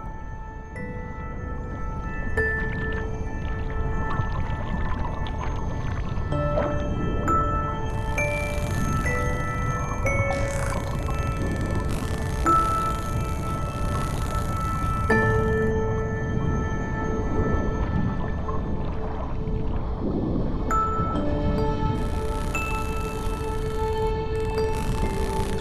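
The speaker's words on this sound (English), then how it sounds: "clicks. At first, almost imperceptible, but gradually getting closer, they announce the arrival of the tersiops" Bottlenose dolphins underwater produce faint clicks that grow closer, mixed with whistles and tonal calls over a steady watery hiss, with bright bursts of clicking recurring across the long stretch.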